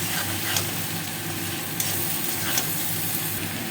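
Spices with ginger, cumin, chilli and turmeric powders, salt and sugar frying in a pan for a kohlrabi curry, a steady close sizzle with scraping stirs of a spoon every second or so, no voices.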